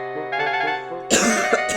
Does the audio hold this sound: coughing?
yes